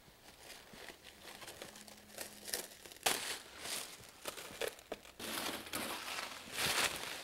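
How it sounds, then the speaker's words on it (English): Packaging around a Kobo TC-851 hot stamp machine is cut open and unpacked, with close crinkling, crumpling and tearing of wrap that comes in irregular bursts, a few of them sharp and loud. "And now we're going to cut it open and unpackage it."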